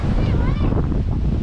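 Gusty wind buffets the microphone aboard a sailboat with waves washing around the hull, a continuous loud rumbling roar with some faint whistling.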